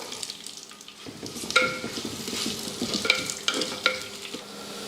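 Oil sizzles steadily in a pan with onions, cinnamon and cloves frying while a utensil stirs and clinks against the metal a few times.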